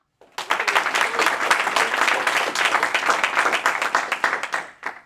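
An audience at a conference claps in a sustained burst of applause lasting several seconds, dense and lively, before tapering off; no talk over it.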